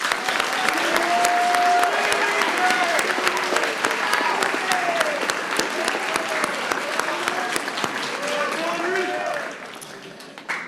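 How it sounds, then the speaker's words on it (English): A large audience applauds at a high school graduation commencement ceremony, dense sustained clapping with scattered whistles that fades somewhat toward the end. "Let's give them a round of applause too."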